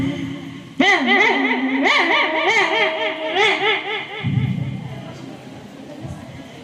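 A schoolchild imitates a dog with a run of loud, close, yowling barks and howls lasting a few seconds, followed by a burst of audience laughter.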